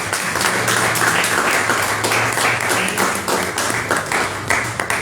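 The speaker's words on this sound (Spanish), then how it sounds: "Un aplauso, por favor." An audience applauding at a magazine launch presentation, loud dense clapping from many people filling the room continuously for several seconds, with no speech over it.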